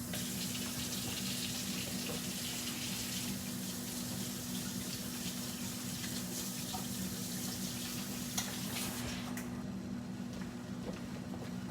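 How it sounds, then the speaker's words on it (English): Hands are washed under a running kitchen tap, a steady close hiss of water that stops suddenly near the end, with no talk. "So now I got my hands washed off."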